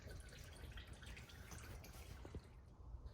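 Last drips of engine oil draining from a high-mileage Ford F-150 EcoBoost with 219k miles during an oil change, a faint, steady patter of drops falling into a catch pan, with no talking.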